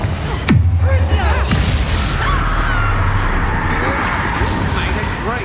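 A spell blast in the Hogwarts Legacy video game booms and crackles over a dense, roaring battle soundscape, with a sharp rising whoosh near the start and continuous rumbling effects.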